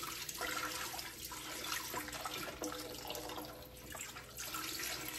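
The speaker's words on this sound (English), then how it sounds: "Now I'm gonna add my beef broth." Beef broth pours into a pan of gravy for hamburger steaks, a continuous steady liquid rush close by with faint background clatter and no talking.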